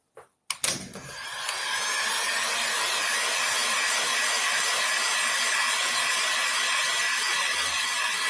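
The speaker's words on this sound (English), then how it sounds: "let's take a blow dryer" A hair blow dryer runs steadily on freshly inked art pieces, switching on after a brief click and holding a loud, constant airy whir throughout.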